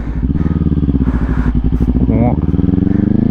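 A motorcycle engine thrums close by in a fast, even pulse that climbs briefly with a gear change and then settles, loud and continuous, while someone talks over it.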